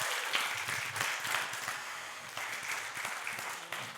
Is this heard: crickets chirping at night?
no